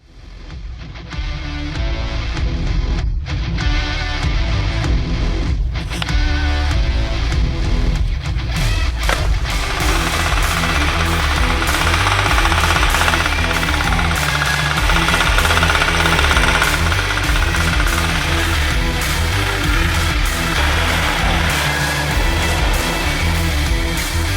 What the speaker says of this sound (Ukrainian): Зараз під'їдемо, заведемо тракторця такого, бачите, кентавр.